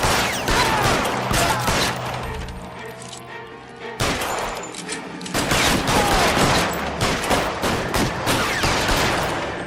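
Rapid bursts of gunfire from an L.A. Noire video game shootout, a dense fusillade of loud overlapping shots with a short lull before the volley resumes.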